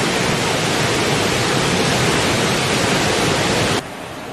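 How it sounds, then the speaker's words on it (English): Victoria Falls in Zimbabwe thundering as a dense, loud, unbroken roar of falling water, steady for several seconds before cutting abruptly to a quieter wash. "Victoria Falls in Zimbabwe"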